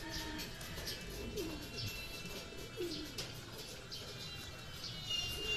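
Racing pigeons coo in low, soft bursts around a loft during a training release, with repeated throaty calls over a steady background of outdoor noise and faint chirps.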